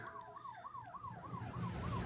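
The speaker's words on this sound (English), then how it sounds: "I'm hearing an ambulance." An ambulance siren wails outside in a rapid, regular rising and falling pattern, moderately distant, as road traffic noise grows louder beneath it.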